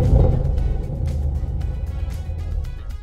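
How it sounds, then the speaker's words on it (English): A deep, throaty car exhaust rumbles steadily with a low, pulsing burble, loud and close. "exhaust recordings"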